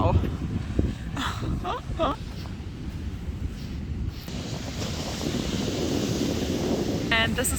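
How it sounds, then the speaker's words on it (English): Ocean waves wash onto an off-season beach by a seaside hotel, with steady wind buffeting the microphone throughout; a person talks over the surf for much of the time. "here's the beach. The waves are so wow."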